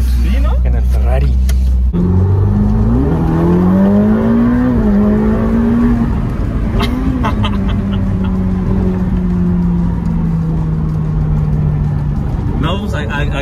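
A Ferrari sports car accelerating on the road with a loud engine whose pitch climbs through gears and then settles, heard from inside the cabin while people talk over it.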